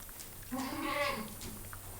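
A goat on a farm gives one drawn-out, wavering bleat, fairly close and moderately loud, against quiet outdoor background.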